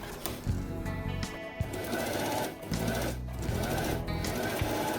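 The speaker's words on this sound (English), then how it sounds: "Leave here 1 millimeter and sew along this edge." A sewing machine stitches a fabric edge beside fusible interfacing while a quiet book magnetic closure is made, giving close, steady mechanical whirring in several runs with brief pauses and no talk.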